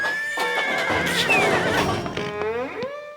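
A horse whinnies loudly and close, a long shaky neigh rising and falling over about three seconds, with a few hoof knocks underneath and no voices.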